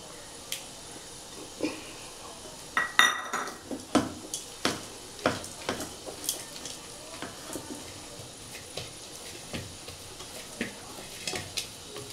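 Repeated scraping and knocking of a spoon stirring thick kozhukattai dough in a bowl, with grated coconut being mixed in, uneven strokes close by, with no talking.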